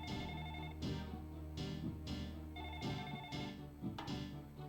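A telephone rings in The Ring: Terror's Realm game, repeated tonal electronic rings in a steady rhythm, moderately quiet and heard alone without talk.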